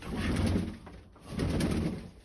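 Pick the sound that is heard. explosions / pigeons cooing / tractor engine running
pigeons cooing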